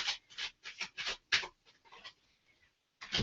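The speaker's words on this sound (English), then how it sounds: "Let me know when you want me to stop shuffling." Osho Zen tarot cards being shuffled by hand: a run of crisp, papery riffling bursts close by, several in quick succession, a pause, then another burst at the end.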